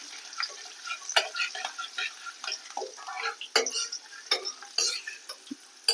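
Garlic cloves frying in oil, about ten added, for vatha kuzhambu: intermittent crackling pops and spits over a quiet sizzle, irregular and close, with brief stirring clicks and no talking.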